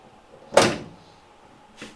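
A Honda CRX hood, held up by gas shocks, swings down and shuts with one solid thud, followed by a fainter knock a moment later.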